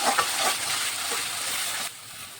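Tomato and onion paste going into a pan of frying chicken curry, raising a loud, dense sizzle with stirring scrapes that drops abruptly quieter near the end, with no voices.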